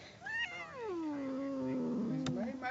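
A cat gives one long drawn-out meow that slides down in pitch and then holds a low wavering caterwaul, heard close with a faint background hiss.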